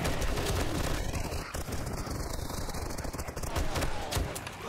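Sustained automatic gunfire aimed at a zombie horde in 7 Days To Die, dense rapid shots rattling continuously and loudly over several seconds with little pause.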